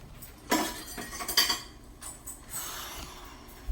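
Pickle ingredients for gherkins are stirred in a pot of vinegar and sugar coming to the boil, giving scattered close clinks and knocks of a utensil against the pot over a quiet kitchen background.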